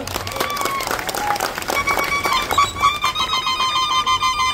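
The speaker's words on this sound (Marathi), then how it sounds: "एक जोरदार टाळ्या वाजवून आपण स्वागत करूया." Crowd applause greets a guest at a wrestling competition in Sangamner, dense clapping with a high electronic tone or whistle ringing over it, steady throughout.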